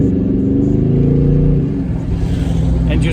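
A 2021 Dodge Charger Widebody Scat Pack engine revs hard and climbs through gears, a steady loud mechanical roar with rising harmonic sweeps and no talking.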